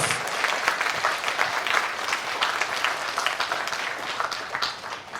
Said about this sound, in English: could we have another big round of applause to our speakers?